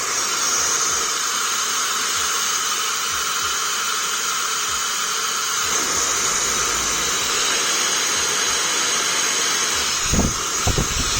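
Hair dryer blowing cold air after its heat setting fails, a loud continuous whooshing hiss close to the microphone that shifts slightly in tone midway as it switches settings, ending with a few handling knocks.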